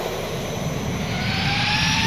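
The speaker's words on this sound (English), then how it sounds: "Go ahead and apply thrust reversers." An airliner touching down at San Diego's airport on runway 27 roars as thrust reversers come on, a loud, steady jet rush that swells slightly toward the end.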